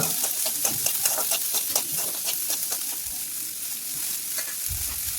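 Chopped onion frying in oil in a pan at medium heat makes a continuous sizzle with faint repeated stirring ticks, and a low rumble near the end.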